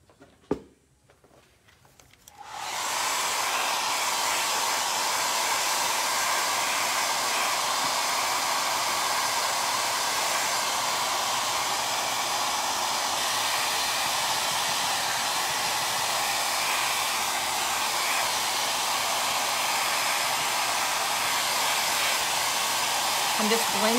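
A hair dryer switches on after a faint click and blows steadily and loudly up close for about twenty seconds, drying a freshly painted chippy barnwood finish.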